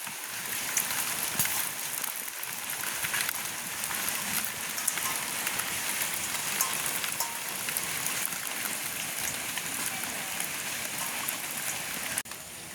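Steady rain falls on a village outdoor cooking area where a fire is burning, a continuous close hiss of drops on surfaces with no talking.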